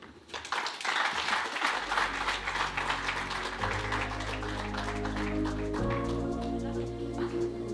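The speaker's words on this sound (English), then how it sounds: "Another round of applause for those very thoughtful remarks from our chief guest." An audience applauds a chief guest's remarks at the launch of Safaricom's 2023 sustainable business report, a steady wash of clapping carried along over music that swells in partway through.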